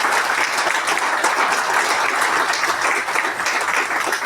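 An audience applauds Serge at a ceremony, with steady, dense clapping filling the whole stretch at a loud, even level with no voices over it.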